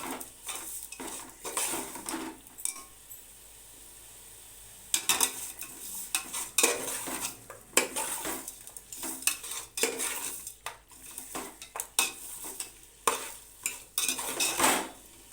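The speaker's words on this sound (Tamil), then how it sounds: "சேர்த்து நல்லா கிளறி விடலாம்." A metal utensil scrapes and clinks against a pot of biryani in repeated bursts of stirring, close and fairly quiet, with a faint sizzle underneath.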